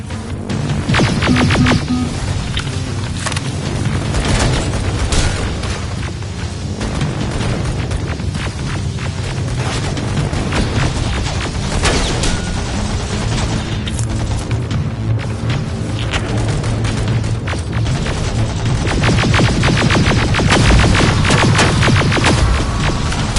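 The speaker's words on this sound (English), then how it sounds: "Got grenades? Fucking throw them!" Grenade explosions in the shooter Terminator Resistance: a continuous loud barrage of booms, thuds and crackling battle noise, with repeated blasts layered over a deep rumbling bed throughout.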